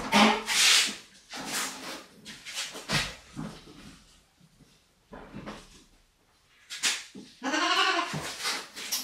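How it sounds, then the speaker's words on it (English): Baby goats bleat in several separate loud, close cries with quieter rustling and knocking between them, and a final long quavering bleat. "Okay, let's get Miss Ellie Mae in here."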